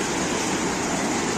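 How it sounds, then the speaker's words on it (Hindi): Water rushes under strong pressure down a mountain stream in Kashmir, a dense, continuous roar filling the short stretch at close range with no voices over it. "यहाँ पे देखो कितने जोर से कितने प्रेशर से पानी आ रहा है"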